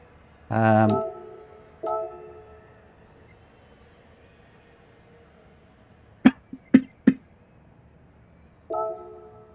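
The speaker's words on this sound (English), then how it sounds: "Sorry for me coughing." A single loud cough up close, then brief throat noises and a few sharp clicks in an otherwise quiet room.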